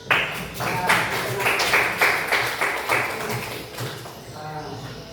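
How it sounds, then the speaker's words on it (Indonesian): Classroom applause for a student in a seventh-grade social studies lesson: a short burst of scattered hand claps from pupils, fairly close, fading toward the end. "Tepuk tangan untuk Muhammad Fadil"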